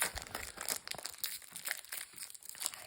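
Crinkly plastic foil of a Japanese Pokémon card booster pack being handled and pulled at while someone struggles to open it, close and fairly loud in irregular bursts of crackling.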